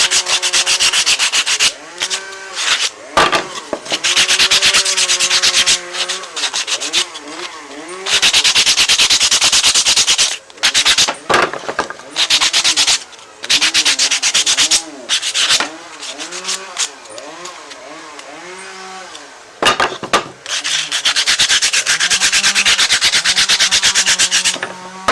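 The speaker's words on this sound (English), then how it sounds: "You will need a piece of sandpaper as well to smooth the edges when you finish cutting." Sandpaper rubs back and forth over the edges of a wooden box in loud, close, rhythmic strokes, broken by short pauses, with faint talking between passes.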